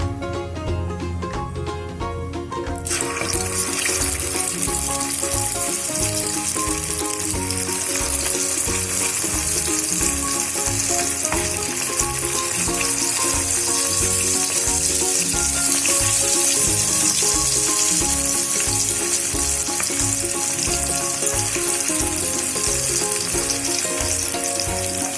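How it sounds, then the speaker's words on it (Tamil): Chicken pieces for Chicken 65 drop into hot oil and then sizzle and bubble loudly and steadily, with a quieter moment before the pieces go in and background music playing throughout. "எண்ணெய் வந்து நல்லா சூடானதும் நம்ம சிக்கனை போட்டு ஃப்ரை பண்ணிக்கலாம்."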